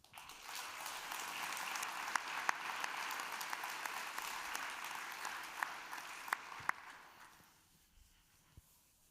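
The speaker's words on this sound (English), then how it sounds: "Give it up for Bo Hines." A conference audience at a panel on Bitcoin and political institutions gives a soft, steady patter of many hands that thins and fades away near the end.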